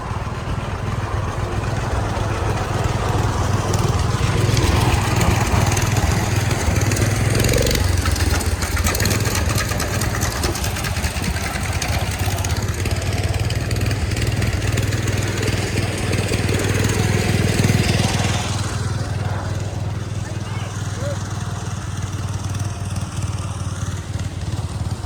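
A small Allis-Chalmers garden tractor engine runs at a steady idle nearby, a continuous loud mid-pitched drone that eases slightly in the last few seconds, heard at an old-time tractor show.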